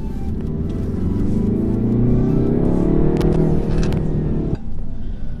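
A 2017 MINI Countryman S engine revs up, its exhaust note climbing in pitch and swelling in a throaty drone, then dropping off abruptly; loud and close, no talking.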